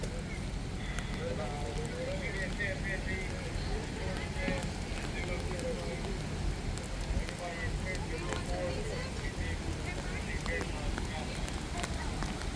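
Steady storm rain falls outdoors during a canceled public safety night event: a constant hiss of rainfall throughout, with a voice talking over it.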